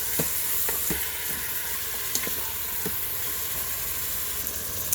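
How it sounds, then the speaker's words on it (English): Ground beef and chorizo frying in a pot, stirred and broken up as it cooks; a loud continuous sizzle with regular clacks and scrapes of the spoon, close by. "just let the meat go for about 5 minutes, and just keep stirring it and breaking it up as it goes"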